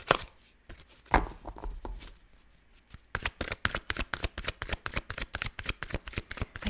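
Tarot cards are handled with scattered soft rustles, then shuffled in a fast, rhythmic series of close, crisp slaps and riffles.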